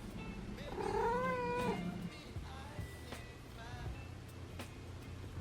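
Cat giving a single drawn-out, wavering meow indoors, fairly faint, followed by soft rustling and small clicks.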